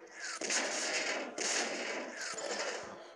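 Cannon fire in a tank cartoon, three loud blasts each followed by a long roaring, hissing decay, spaced roughly a second apart.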